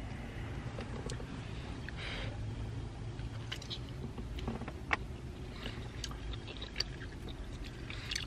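A veggie snack, a crunchy variety that also comes in shrimp flavour, being chewed up close in a steady, soft crunching rhythm with a couple of sharper bites, no talking over it.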